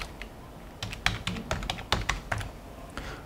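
Quick bursts of keystrokes on a computer keyboard enter a username and password, with clustered taps and short pauses, close and fairly quiet with no talking.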